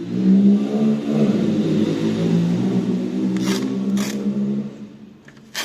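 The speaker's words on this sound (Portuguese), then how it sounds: "Deixa a moto passar, né?" Motorcycle engine passing on a nearby street, a loud steady droning hum that slowly fades as it moves away, with a few brief clicks and knocks toward the end.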